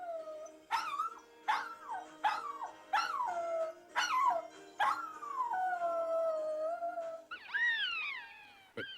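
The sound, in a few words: dog howling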